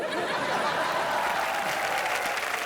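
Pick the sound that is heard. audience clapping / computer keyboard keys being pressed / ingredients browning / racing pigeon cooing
audience clapping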